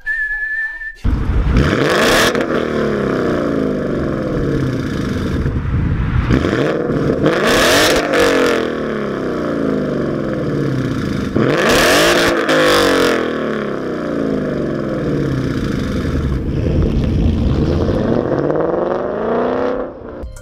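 A powerful V8 car engine revs hard and loud, climbing in pitch through several gear changes with brief dips between pulls, close and continuous.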